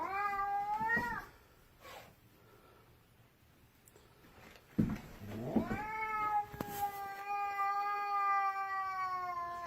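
A cat meowing on a staircase: long, drawn-out wailing meows, clear and close, with a quiet pause between the calls and a brief thump or shuffle in the middle.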